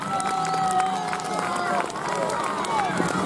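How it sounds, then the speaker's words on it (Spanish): A crowd at a Peace Day school event claps for a group of children, a dense, continuous patter of many hands mixed with excited chatter and shouts, with a few whistle-like tones rising through it. "Un aplauso para estos chicos."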